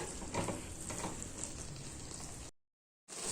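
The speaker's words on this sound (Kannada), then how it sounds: "ಚೆನ್ನಾಗಿ ಫ್ರೈ ಮಾಡ್ಕೊಳ್ಳೋಣ." Soya chunks frying in masala in a pan give a steady, close sizzle that runs unbroken for a few seconds, drops to silence briefly, then resumes.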